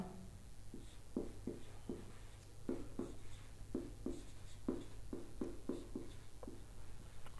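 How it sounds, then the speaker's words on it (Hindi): Chalk or marker strokes on a board during a chemistry lesson on the periodic table, a steady series of short scratchy taps and scrapes in quick rhythm, fairly faint over a low room hum, with no talking. "यहां लिख देता हूं"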